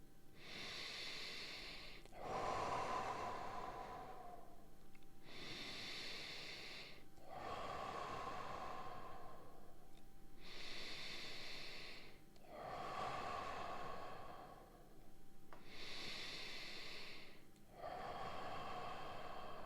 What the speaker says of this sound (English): Last round, 5 deep breaths.